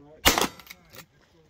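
A single sharp gunshot on a cowboy action shooting stage cracks out loudly and close, followed by a short echoing tail and then quiet.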